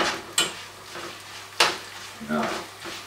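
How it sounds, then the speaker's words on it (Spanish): Noodles (fideos) frying in a pan, with a steady sizzle and sharp scrapes and clinks as a utensil stirs them against the metal. A few strokes come at irregular moments, and someone talks over the cooking. "lo primero que vamos a hacer es freír los fideos"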